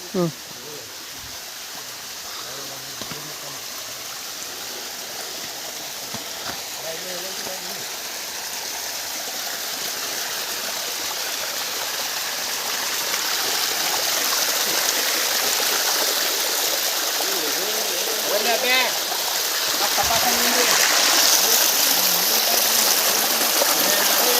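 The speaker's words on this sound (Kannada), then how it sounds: "ಫಾಲ್ಸ್ ಹೆಂಗೈತಿ ನೋಡ್ರಿ ನೀವು" Steady rushing water from Bairappa falls and a flowing stream, a broad continuous roar that swells slightly louder over time, with brief moments of people talking faintly in the background.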